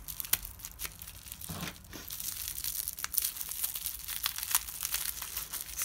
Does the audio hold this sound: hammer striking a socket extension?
no